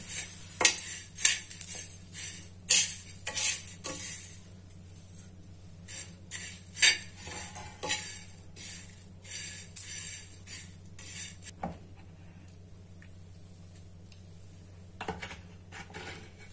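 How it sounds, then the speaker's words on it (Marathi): Coriander seeds roast alongside leaves in a pan for masala dosa filling, stirred with a metal spoon that gives repeated close clinks and scrapes over a low steady hiss, with a quieter stretch near the end. "आता हे सगळं आपण एकत्र करूया, हे धणे आणि छान याला भाजून घेऊया"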